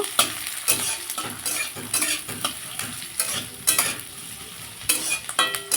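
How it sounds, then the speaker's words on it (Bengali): Two chopped onions fry in oil in a pan, a bright continuous sizzle punctuated by repeated rhythmic stirring scrapes close by, with no voices. "এই পেঁয়াজগুলো আমি তেলে ভালো করে ভেজে নেব"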